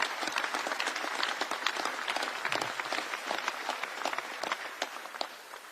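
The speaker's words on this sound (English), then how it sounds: "Give them a round of applause." A crowd at a fathers' initiative announcement gives a round of applause, sharp overlapping claps at moderate distance that hold steady and thin slightly toward the end.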